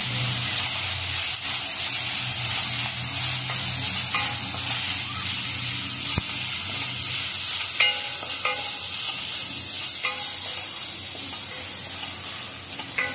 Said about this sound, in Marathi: छान परतून घ्यायचं, म्हणजे आलं आणि लसणाचं वास निघून जाईल.